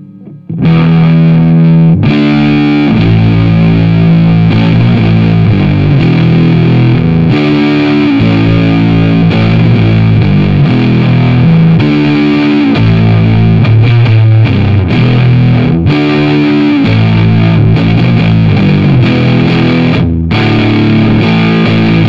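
Electric guitar on its neck pickup driven through a Fuzzfather germanium fuzz pedal, playing a continuous dark, thick, heavily saturated riff of sustained chords and notes, loud and up front with no talking.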